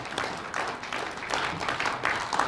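Audience at a Korean public debate event for education superintendent candidates applauds as a candidate comes forward, a steady broadband clapping wash with surges throughout.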